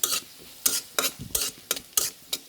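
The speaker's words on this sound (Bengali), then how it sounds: "পাঁচ ফোড়নটা দিয়ে সুন্দর করে একটা নাড়াচাড়া করে" Panch phoron spices stirred in a hot pan, about seven sharp, evenly spaced scraping strokes, close and crisp, with a faint sizzle between them.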